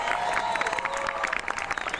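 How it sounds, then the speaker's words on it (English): Crowd at a rally applauding and cheering, dense clapping with raised voices, steady and loud throughout without a break. "Give them a round of applause"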